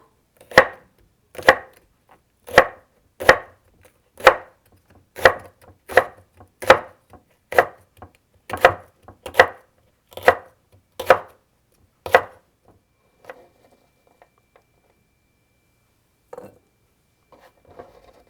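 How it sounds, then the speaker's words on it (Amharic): Green chili peppers are chopped with a knife on a wooden cutting board: about fifteen sharp, evenly spaced thuds close up, then a few scattered soft taps before silence. "ቃሪያውን እከትፋለሁ።"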